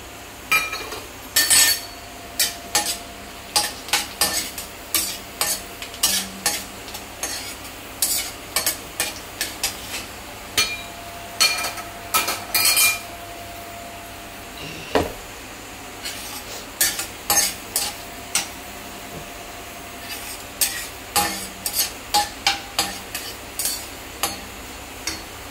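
Whole cinnamon, cardamom, cumin and cloves fry in hot oil in a pan while a utensil stirs them, giving a steady sizzle broken by repeated close scrapes and clinks against the metal, with no talking.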